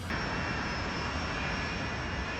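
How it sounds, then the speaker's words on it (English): A Tupolev 154 jet airliner of Bashkirian Airlines departs Moscow at night, its engines producing a steady, broadband roar that holds even and unbroken throughout. "Bashkirian Airlines Flight 2937 leaves Moscow. The plane is a Tupolev 154."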